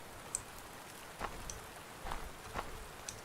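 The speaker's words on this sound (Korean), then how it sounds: "밖엔 비가 내리고" Faint steady rain falls outside in the horror video game Devil's Toy, a soft continuous patter with a few quiet drips and taps scattered through it, low and distant.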